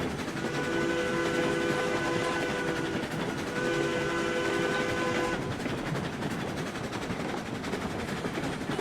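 A steam train in the railroad game RailRoads Online rumbles along steadily with a loud, sustained whistle blast, a short pause, then a second long blast before the running noise continues alone.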